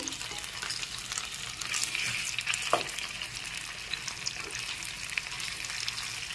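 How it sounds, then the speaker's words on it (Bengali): Butter garlic chicken pieces fry steadily in a pan over a low flame, giving a constant soft sizzle with occasional small pops, close by and alone without talk. "লো ফ্লেমে রেখে এক পিঠ ভেজে নিয়েছি। এবার একটু উল্টিয়ে নিচ্ছি। উল্টো পিঠটা ভেজে নেওয়ার জন্য"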